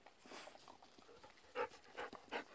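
A dog pants quietly in short, rhythmic breaths, faint and close, with a few louder huffs toward the end while waiting before riding lessons.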